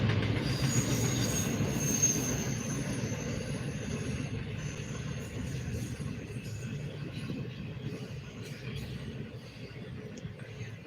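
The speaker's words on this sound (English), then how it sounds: "Assembled on that train is NS 28B." Norfolk Southern freight train NS 28B, carrying ABF and UPS trailers, passes at Erie, Pennsylvania, a steady loud rumble of railcars with wheel squeal and faint rhythmic clatter running throughout.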